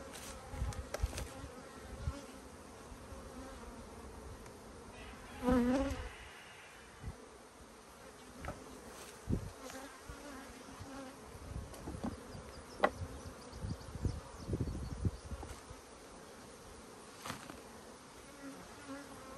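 Honey bees buzzing steadily around frames of a honey super during a sourwood honey harvest, with a continuous close hum, occasional louder passes near the ear and scattered thumps and clicks of handling.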